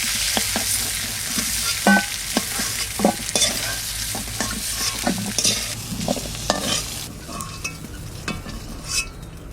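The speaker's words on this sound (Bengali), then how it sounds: "আলু কটা কষা নিচ্ছি ও তুলে নেব" Potatoes sautéing in oil in a pan with a steady close sizzle, broken by repeated scraping and clinking of a spatula stirring against the metal throughout, no talking.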